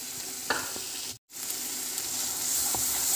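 Sweet potato halwa with ghee and cardamom is stirred in a pan, a soft steady sizzle broken by a few spoon scrapes and one brief dropout, close and alone with no voices.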